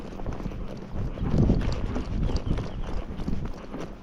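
A grey Missouri Fox Trotter mare moves in a quick racking gait along a trail, her hooves making a steady, rapid clip-clop close by, mixed with rustling and rider movement.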